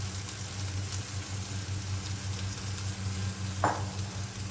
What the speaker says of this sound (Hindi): चिकन डालकर इसको भूनेंगे अच्छी तरह से हम।